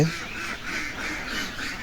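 Ducks on a duck farm quack in a continuous, moderately loud chorus of overlapping calls that rises and falls throughout, with no voices present.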